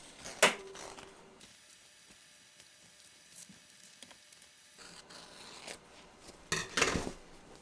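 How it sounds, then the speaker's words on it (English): Scissors snip away excess embroidery stabilizer from a baby onesie appliqué, with a few sharp cuts at the start and a louder burst of close snipping and rustling near the end. "I'm just going to cut this extra stabilizer off"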